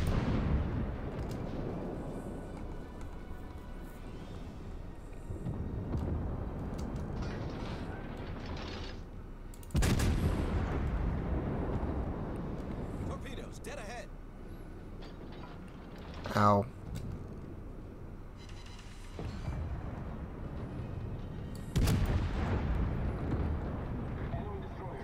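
Warship shell fire in World of Warships, a few heavy booming salvos spaced several seconds apart under steady engine rumble, with someone talking throughout.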